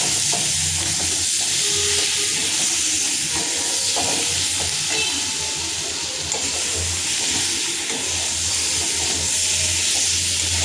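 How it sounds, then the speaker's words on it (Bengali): A small amount of hot oil being stirred around a kadai produces a continuous close sizzle and hiss, with scraping and shifting textures from the stirring and no speech. "গরম হচ্ছে এবার তেলটা পুরোটা নাড়িয়ে নিচ্ছি"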